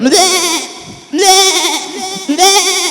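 A voice imitates an older goat's bleat at a school annual day performance: three drawn-out, quavering bleats with short pauses between them, close and loud.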